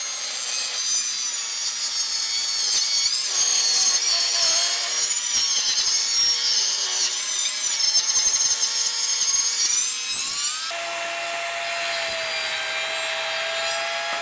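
A saw cuts steadily through a 3.5-inch wide wooden board during resawing, giving a continuous loud rasping drone that changes tone near the end as the cut finishes.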